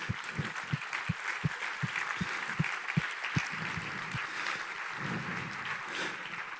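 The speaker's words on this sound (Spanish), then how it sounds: "Dale un aplauso, claro que sí." Church congregation applause during a sermon, rhythmic clapping with a low thumping beat in unison at first, fading into a looser, softer wash of claps.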